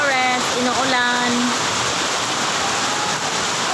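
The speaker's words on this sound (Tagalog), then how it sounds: "Yan, lakas na ng ulan, oh." Heavy rain pours steadily over a small home garden, a dense, loud hiss that never lets up, while a person speaks briefly over it at the start.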